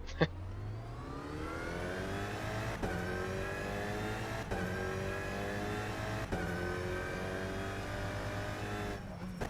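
In the rFactor 2 racing game, an Alpine A110 engine revs up repeatedly through the gears. Each rising whine ends in a sharp shift, and the engine drones alone and steady throughout.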